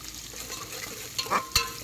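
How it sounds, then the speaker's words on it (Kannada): Chopped onions fry in a pan for a Bangalore-style avarekalu egg sambar, giving a soft, continuous sizzle with a few brief stirring scrapes near the end, close and fairly quiet. "ಉಳ್ಳಾಗಡ್ಡಿ ಹಾಕಿ ನೋಡಿ ಫ್ರೆಂಡ್ಸ್ ಸ್ವಲ್ಪ ಕಲರ್ ಚೇಂಜ್ ಆಗೋವರೆಗೂ ಸ್ವಲ್ಪ ಫ್ರೈ ಮಾಡ್ಕೋಬೇಕು"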